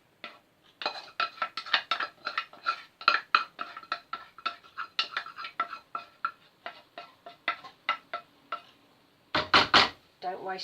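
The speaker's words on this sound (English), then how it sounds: "Give that a good old stir in." A spoon scraping and clinking in a pan as cooked rice is stirred into kedgeree, quick repeated metallic taps and scrapes in an irregular rhythm, close and fairly loud, with a heavier clatter near the end.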